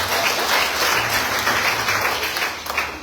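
A church congregation applauds together in a steady wash of clapping that holds at an even level throughout, with no talk over it.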